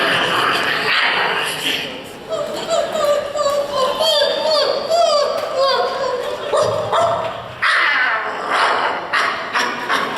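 Voice actors on a convention panel imitate the barks, yips and growls of a cartoon dragon character, a run of short pitched yelps and bark-like calls over crowd noise and laughter.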